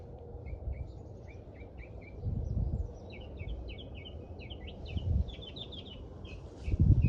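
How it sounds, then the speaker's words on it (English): Birds chirp and twitter outdoors in a scattered, lively chorus of short high calls, fairly distant and soft, with low wind-like rumbles swelling now and then underneath. "I hear birds."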